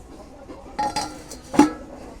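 Metal clinks twice as a lid is set onto a cooking pot holding fish and elephant foot yam simmering in water, a pair of short close clatters amid near silence.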